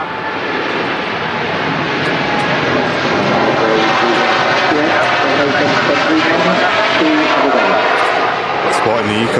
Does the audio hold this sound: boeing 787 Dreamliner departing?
yes